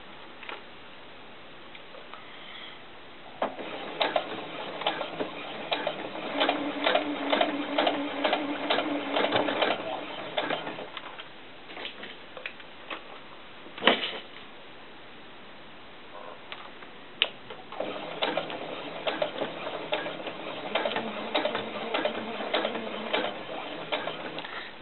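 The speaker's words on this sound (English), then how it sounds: "I'm going to pull my pins out as I sew across" A sewing machine stitches a doll skirt in steady, close runs of rapid mechanical clatter, stopping briefly in the middle with a knock before running again at a similar pace.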